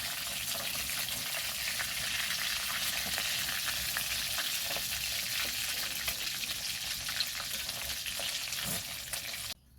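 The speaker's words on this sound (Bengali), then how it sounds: "বাকি মাছগুলোকে আমি একইভাবেই ভেজে নেব।" Pieces of rohu-type fish fry in a pan of hot oil, giving a steady, close, crackling sizzle that stays even throughout with faint stirring touches and no talk.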